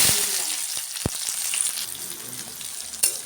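Onions and dried chillies frying in oil make a close, continuous hiss with a few sharp pops and light stirring knocks.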